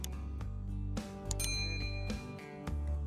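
A bright notification bell chime rings out several times over a continuous low musical bed, with clear metallic dings standing out near the middle of the passage.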